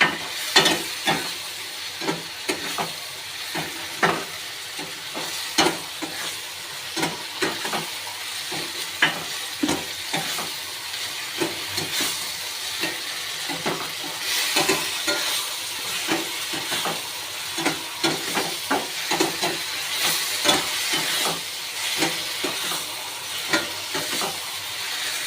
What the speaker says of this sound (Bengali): এবার আমি দিয়ে দেবো আতপ চাল, চালটাকে একটু ভালো করে নেড়ে নেব।